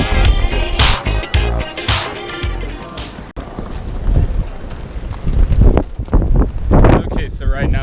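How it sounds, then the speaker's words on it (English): Strong wind buffeting the microphone at the edge of El Morro Fort in Puerto Rico, loud roaring gusts and rumble, with a person talking over it. "There's a lot of wind."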